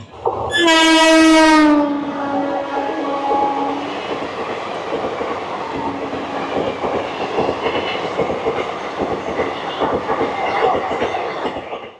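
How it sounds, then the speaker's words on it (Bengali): An army special train passes straight through a station in Bengal, sounding a loud, sustained horn blast for several seconds. A steady rumble and rattle of wagons follows as it rolls past close by. "এই যে থ্রু ট্রেনটা বেরিয়ে গেল না, এটা কিন্তু কোনো মেল এক্সপ্রেস বা প্যাসেঞ্জার ট্রেন নয়, এটা কিন্তু আর্মি স্পেশাল ট্রেন।"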